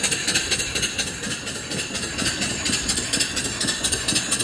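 A live steam mill engine running with a belt-driven mid-1970s Chevrolet GM single-pole alternator, giving a loud, steady mechanical chuffing and clatter with a fast regular beat throughout.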